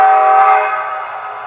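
A loud multi-tone quill horn blast from a Bachmann Charger model locomotive's sound system, one sustained blow that fades slightly, heard up close.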